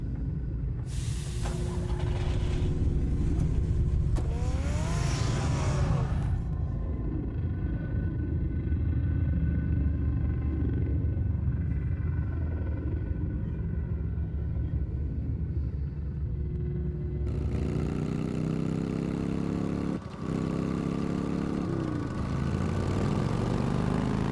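Steady low rumbling car engine in the Batman Telltale Series video game, droning continuously throughout with a brighter surge of revving near the end and music-like tones layered in places.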